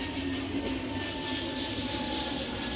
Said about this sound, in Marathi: एवढ्या जवळून विमान जातात.